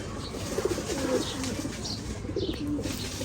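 Top-quality Ferozpuri pigeons coo nearby in a few short, soft bursts over a low background hum, with faint chirps in between.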